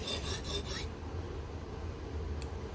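K390 steel knife edge drawn across a stone on a fixed angle sharpening system: a few quick raspy strokes at the start, then a faint steady background hum, close and quiet.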